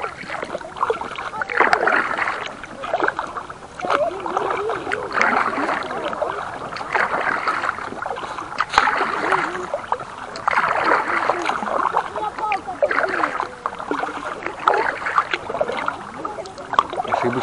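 Catamarans paddled down the Serebryanaya River on a Chusovaya float trip, with steady paddle strokes and water splashing close by under continuous outdoor ambience, while voices talk intermittently.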